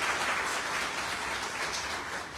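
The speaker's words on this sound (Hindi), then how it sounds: "एक जोरदार ताली सबके लिए।" Audience applause fills the whole stretch as a steady, dense wash of clapping at a gathering of a debt-relief campaign team, with no talk over it.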